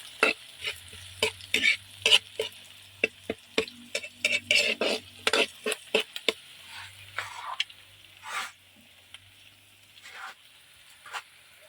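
Lumpiang ubod, four coconut-heart spring rolls crowded into a pan of oil, frying with a low steady sizzle broken by frequent sharp clinks and scrapes of a utensil stirring and turning them.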